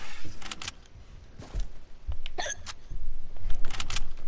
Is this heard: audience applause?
no